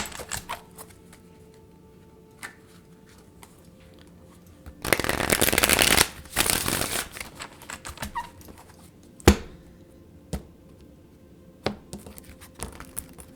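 Tarot cards being shuffled by hand, a dense riffling burst lasting a couple of seconds amid scattered soft taps and card handling clicks, close and fairly quiet, no talking.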